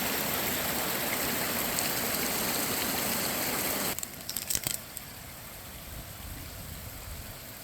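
Las Huertas Creek flowing in the southern Rocky Mountains outside Albuquerque, New Mexico: a steady, close rush of water that drops abruptly to a softer wash halfway through, with a few brief handling noises at the change.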